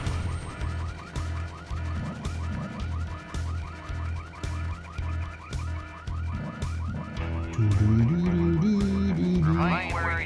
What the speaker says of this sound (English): who set off the alarm, Floyd?